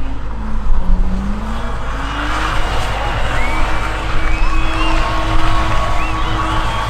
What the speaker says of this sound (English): It's the loudest car though.